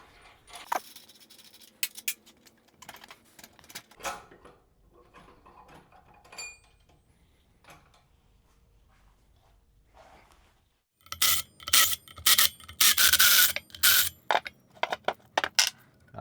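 Hand tools work on a motorcycle front wheel and brake rotor, a 10.5-inch rotor swapped for an 11.5-inch one on an Ironhead Sportster chopper: quiet clinks and ratcheting, then a loud burst of metallic clatter and clicks near the end.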